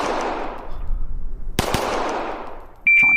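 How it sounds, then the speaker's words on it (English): Two sharp gunshots ring out in quick succession, a double tap fired at a no-shoot target on a shooting stage, followed by a steady whining tone. "that was a double shot on the old no shoot target there"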